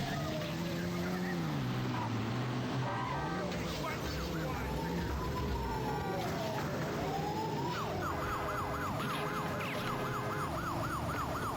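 Ambulance driven in Grand Theft Auto (1998 game), its wailing siren sweeping up and down through most of the clip, switching to a fast rapid yelp near the end, with car engine and traffic noise underneath.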